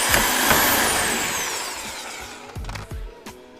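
A power driver sends self-tapping screws into plastic sliders on a BMW E90. A long high whine comes first, then several short sharp bursts of driving and clicking close by, with no talking.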